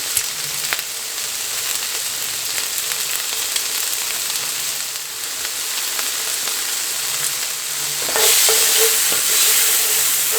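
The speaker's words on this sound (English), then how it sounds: "We're just going to saute this up" Garlic sautéing in a pan for a lasagna meat sauce, giving a steady, close sizzle that continues throughout with no talk, then brightens and grows louder near the end as the frying intensifies.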